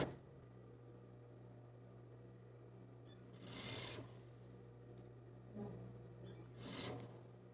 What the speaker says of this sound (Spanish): Aquí lo pongo junto y lo vamos a coser así.